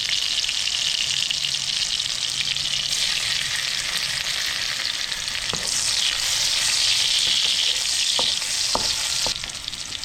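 Garlic, ginger and onion fry in hot oil, a steady, loud, close hiss of sizzling throughout with a few sharp clicks of stirring, no talk.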